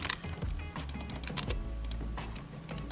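Computer keyboard keys tapped while drafting in Optitex pattern CAD software, a quick run of close, crisp clicks in an uneven typing rhythm with no talking.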